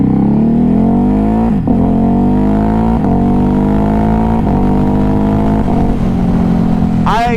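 A 2021 Ducati Hypermotard 950 RVE's engine is heard revving hard while the bike is ridden, a loud continuous drone that climbs through several gear changes, each marked by a brief dip before the pitch rises again.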